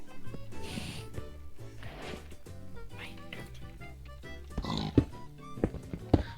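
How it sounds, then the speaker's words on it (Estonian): A Minecraft pig gives short oinks and grunts amid game sounds, with louder snorts near the end while people chat over it. "Minecrafti siga."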